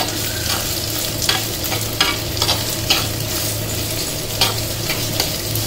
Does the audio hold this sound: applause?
no